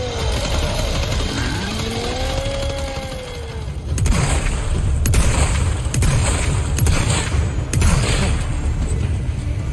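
Bursts of gunfire and heavy booms from Resident Evil combat against armed cultists with modern firearms and rocket launchers, a loud dense roar with rapid repeated cracks pulsing through the second half.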